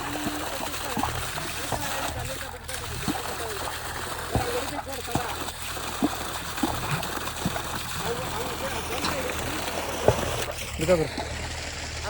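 Water gushes at full force from a two-inch pipe on a coconut farm, a steady rushing splash throughout, with someone talking over it.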